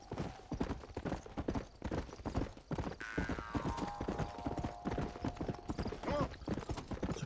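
Horse hooves clip-clopping at a steady riding gait in Red Dead Redemption, a continuous rhythmic patter throughout with game ambience and a brief tonal cue underneath.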